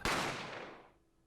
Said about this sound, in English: A gunshot rang out in the shop and I felt a sharp pain in my left arm.